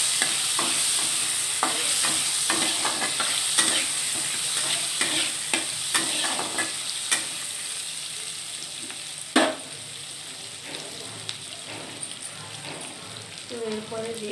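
Tomato paste frying in a pan with potatoes and a ground lentil mixture, sizzling steadily while a utensil scrapes and stirs in repeated clicks and knocks.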